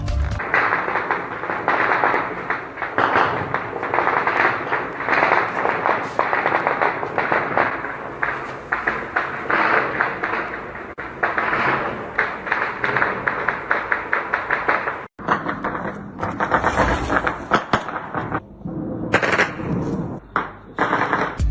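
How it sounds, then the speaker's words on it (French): Heavy-weapons gunfire at night in Niamey, Niger, near the presidency in the early morning, a dense, continuous crackle of rapid shots and bursts that is loud and sustained, with a brief break near the end. "la ville de Niamey s'est réveillée par des tirs à l'arme lourdes ce mercredi 31 mars 2021 à 3h du matin"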